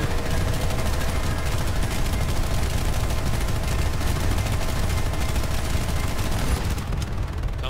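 Dense, unbroken gunfire from the video game Planetside 2 during a base defence, loud and rapid with overlapping shots filling the whole stretch.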